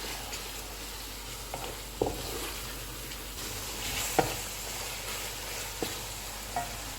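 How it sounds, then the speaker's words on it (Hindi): Masala of coriander powder, cumin powder, salt, red chilli powder, turmeric and green chillies frying in oil for stuffed karela with keema, a soft steady sizzle broken by a few brief stirring clinks, with no talking. "इसको हम ऑयल अलग होने तक भूनेंगे।"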